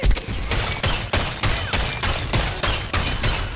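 Machine gun fire in Plants vs Zombies Garden Warfare, heard as loud, steady bursts of rapid shots that repeat about every half second for the whole stretch, close and dense.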